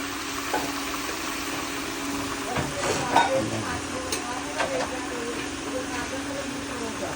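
Pumpkin, potato and vegetable stems being stirred in a pan for a vegetarian curry, with soft scraping and clinks over a low sizzle and a few sharper utensil knocks, while people talk.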